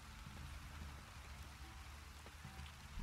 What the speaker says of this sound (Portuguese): olha que legal a chuva aqui no chão